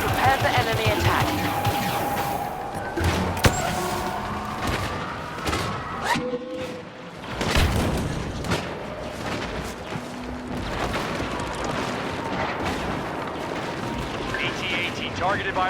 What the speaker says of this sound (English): Orbital strike incoming!